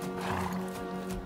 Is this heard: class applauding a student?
no